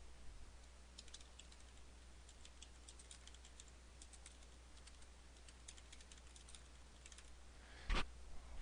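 Someone types a subject on a computer keyboard in a quiet room, with faint, irregular key clicks in short bursts and one louder knock near the end.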